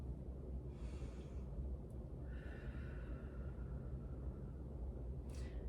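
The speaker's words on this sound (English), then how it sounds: "We want to do some nice deep breathing here in between this round and our next PAIL." A person breathes deeply during a rest between rounds of a 90/90 hip internal rotation exercise, with about three soft, slow breaths over a low background rumble.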